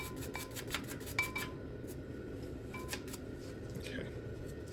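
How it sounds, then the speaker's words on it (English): Stiff wire brush rasping and scrubbing over the surfaces of a brake caliper bracket on a 2007 Toyota Avalon, a steady close scratching with a few sharper metallic ticks and clinks. "I like to just get a wire brush and just kind of clean these surfaces out here"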